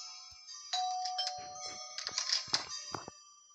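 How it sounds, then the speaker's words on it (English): Doorbell chime rung in the Roblox game during a Halloween session, a short tonal ding with clicky game sounds and light interface noises around it. "I'm gonna ring the doorbell again"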